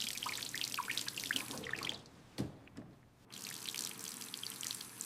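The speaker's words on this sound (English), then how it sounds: "Just keep your hand under the water for more time." Tap water runs and splashes in a sink over a hand just burned on a hot pot, a soft continuous trickle with drips that briefly pauses midway, then resumes.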